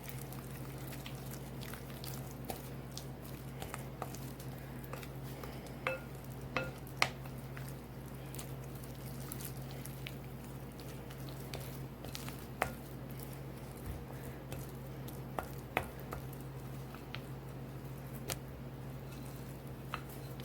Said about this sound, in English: all you do is stir this until it's well blended